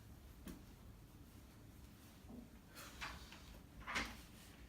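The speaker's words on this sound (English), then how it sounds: "Peter, close the door, please" A door is pulled shut in a room during a podcast recording, giving a few faint, soft knocks and clunks spread over several seconds against a quiet background hiss.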